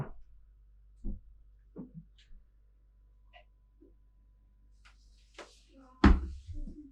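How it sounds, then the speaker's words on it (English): Pull-open doors of the head on a 2012 Lagoon 500 sailing catamaran, heard as scattered soft knocks and clicks in a quiet cabin, ending in a louder thump near the end. "It's pull open doors."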